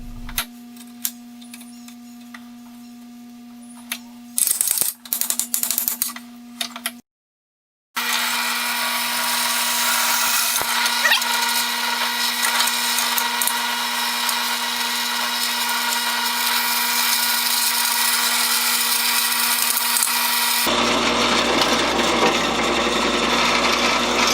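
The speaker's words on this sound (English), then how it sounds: "With the first rail drilled, it's time to do the second one." A power drill bores holes in a large grindstone's metal frame rail, with a steady hum first, short bursts of clatter, then a long loud sustained drilling whine.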